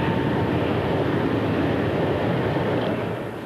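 A BAC One-Eleven civil airliner pulls out of a dive during test-pilot training, a steady, loud broadband roar of engine and airflow that holds constant and eases slightly at the end.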